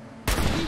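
A sudden loud burst of turret gunfire in the video game Fallout 4 cuts in after a short quiet moment and carries on as a dense, sustained roar.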